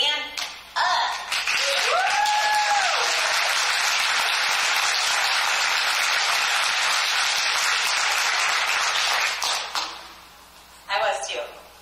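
Audience at a regional meeting stands and claps, a loud, dense wall of applause with cheering lasting about nine seconds between brief moments of talk.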